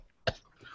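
A role-player voices an old gnome's spluttering cough, a single short sharp cough burst with a raspy tail, fairly faint and alone.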